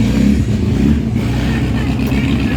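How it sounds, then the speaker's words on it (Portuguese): A four-cylinder AP engine in a Caravan revs steadily and loudly up close, with a dense low rumble holding throughout and no speech. "O motorzão AP aqui na frente."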